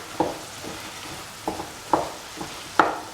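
Mushrooms with ash gourd and coconut milk are sautéed in a pan: a faint, low sizzle broken by five or six sharp spoon scrapes and stirs at roughly half-second intervals, with no talking.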